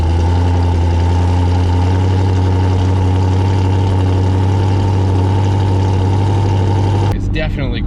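A Chevrolet Camaro fitted with a Stainless Works daily-driver exhaust idles steadily with a deep, even, fairly quiet rumble, alone and close, and the note shifts slightly near the end.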